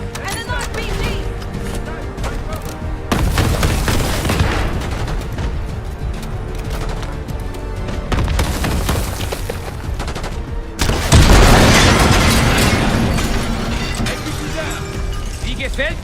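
Rapid gunfire and RPG explosions in Call of Duty: Black Ops 6, loud and dense, with bursts of shots, heavy blasts around four and eleven seconds, and shouted voices over the battle.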